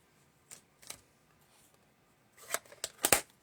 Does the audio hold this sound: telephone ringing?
no